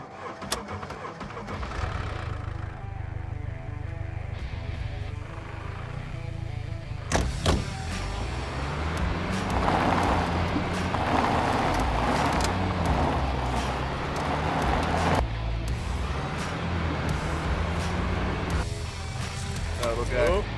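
A car driven in a video game rolls along with a steady mid-pitched engine drone and road noise, a sharp mechanical clunk near the start, with voices talking over it throughout.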